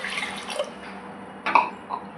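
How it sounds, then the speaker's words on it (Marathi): Water pours into a pot of washed masoor dal with turmeric, a brief splashing gush with a few drips, fairly close and alone without talk. "तर इथे मी 2 कप पाणी टाकते"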